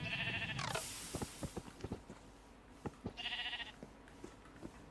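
Minecraft sheep in Create Aeronautics give two short, close bleats, one at the start and another a few seconds later, between soft, scattered clicks and footstep-like taps, with no one talking.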